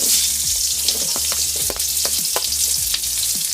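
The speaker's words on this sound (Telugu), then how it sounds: "నేను ఇప్పుడు ఇదంతా వేయించుకుంటాను. ఎర్రగడ్డ, టమాటోలు అంతా." Chopped onion and tomato frying in a pan of hot oil for a South Indian lentil sambar, a steady close sizzle with faint scattered stirring clicks and no voices.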